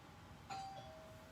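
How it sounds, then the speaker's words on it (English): A single doorbell chime rings out clearly at a home, one sustained tone that lingers and fades against quiet room background. "as soon as she rings the doorbell"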